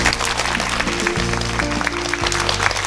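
Steady applause from a lecture audience, a dense continuous patter with a low hum underneath, filling the whole stretch without pause.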